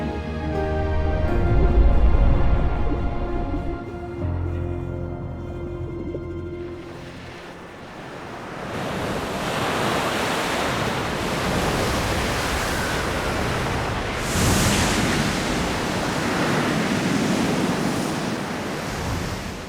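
Stormy Pacific Ocean waves in the Pacific Northwest crash and roar in a broad, continuous wash of surf, heard alone after music fades out in the first seven seconds, with swells of louder breaking water throughout.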